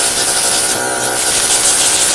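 A 12V two-cylinder heavy-duty portable air compressor (11.65 CFM) vents air through its blow-off valve: a loud, steady, broadband hiss that runs unbroken from start to finish.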